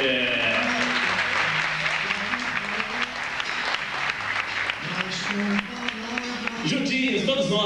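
Studio audience applause at a 1996 Brazilian Valentine's Day variety TV show, a steady wash of clapping for the performers running the whole stretch with music and a host's voice over it.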